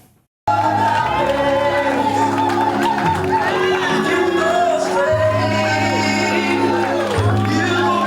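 A crowd of FNM supporters mills around at a town hall gathering as loud music plays steadily, the voices and crowd noise sitting mostly beneath the music.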